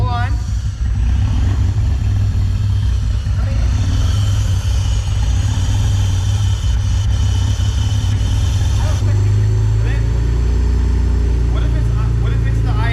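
A BMW E46 wagon with a manual swap and new tune idles loudly and close, a steady low engine drone throughout while people talk over it.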